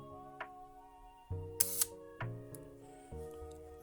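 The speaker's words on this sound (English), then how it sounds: "To fire your shutter, it's the shutter lever." Small mechanical clicks from the shutter of a 1934 Welta Perfekta film camera, a couple of sharp snaps among quieter ticks, close up over a steady low hum.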